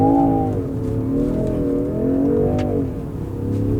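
A 2024 Range Rover Sport P510e plug-in hybrid SUV accelerates hard, its engine note steady and loud, rising and falling gently across the run as it keeps pulling.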